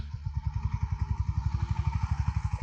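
Honda H'ness CB350 motorcycle rolling over a speed breaker in second gear, its engine thumping in a steady, loud low pulse throughout, close by with no talk.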